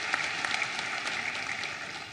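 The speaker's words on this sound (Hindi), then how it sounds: "दोनों हाथ ऊपर उठा के ताली बजा के उनका स्वागत कीजिए" A crowd at an outdoor political rally in Hoshangabad applauds to welcome a guest, a steady, distant patter of many hands that stays faint and even throughout.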